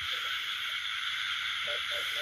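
Frogs call in a rain-soaked rice field, a few short croaks spaced irregularly at moderate distance over a steady bed of rain and insect-like hiss.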